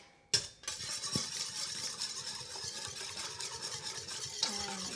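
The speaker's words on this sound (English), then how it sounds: "I'm just going to take a whisk" A metal whisk stirs vanilla into granola ingredients in a bowl, giving a steady scraping and clinking run of close, moderately loud strokes after a sharp opening knock, with no talk.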